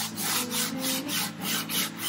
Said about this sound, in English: I just basically keep sanding on it until I'm happy with it.